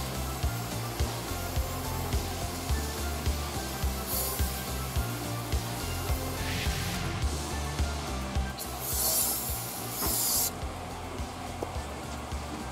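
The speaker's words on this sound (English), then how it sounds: "I'm gonna throw on some foam cleaner just to see what I can do" Foam cleaner is sprayed onto a car interior in a few short, airy hissing bursts over a steady low background rumble.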